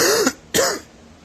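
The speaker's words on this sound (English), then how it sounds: "you guys hear me coughing from the illness that I have" Two short, sharp coughs from a person who is ill, close and fairly loud, with a brief gap between them and quiet afterward.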